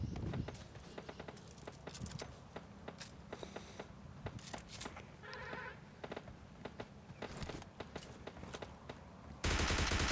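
Rapid bursts of gunfire crackle throughout in PUBG Mobile Lite, including an M24 sniper rifle, with sharp repeated shots and occasional electronic tones, ending in a burst of loud static-like noise.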